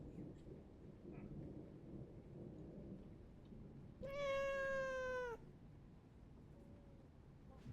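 A single drawn-out cat meow inside the Among Ashes PC game, clear and fairly close, lasting about a second over a steady backdrop of thunderstorm rain and rumble.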